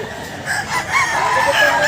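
An Iraw-breed rooster crows once, loud and close, in a single drawn-out cock-a-doodle-doo with a raspy ending.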